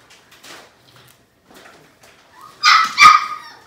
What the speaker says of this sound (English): The puppy's being bad, it's all good.